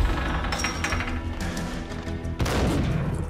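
Rapid pistol shots from a Beretta in the video game Max Payne crack out in a dense, loud burst, followed by a sharper blast near the end over ringing background game ambience.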